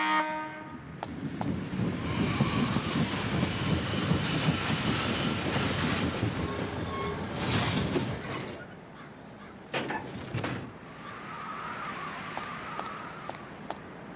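A Blackstone Railroad train in the Dark Cloud 2 video game rumbles along the rails with steady wheel noise, squealing and clatter, loud and close, easing off and returning toward the end with no talk.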